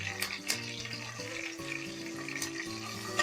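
Curry leaves, ginger garlic paste and green chilies fry softly in a pan for dal jeera khichdi, a faint sizzle beneath a steady low background hum.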